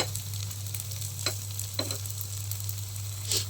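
Potato appe frying in an appe pan, a soft continuous sizzle and crackle with a few brief sharper pops, close and steady over a low constant hum.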